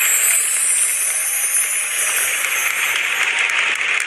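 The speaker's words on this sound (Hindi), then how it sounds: "सब इस जादू को देखकर तालियां बजाने लगे।" A theatre audience applauds after a magic trick on stage, producing a steady, dense wash of clapping that holds at an even level for a few seconds.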